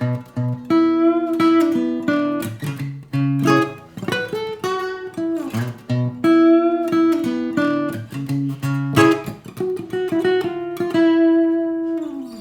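Acoustic guitar riffs played briskly and repeatedly, a busy run of plucked notes and hammered phrases, loud and close with no talking.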